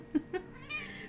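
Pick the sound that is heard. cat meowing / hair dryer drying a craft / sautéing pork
cat meowing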